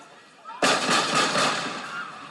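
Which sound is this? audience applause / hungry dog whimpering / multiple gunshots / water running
multiple gunshots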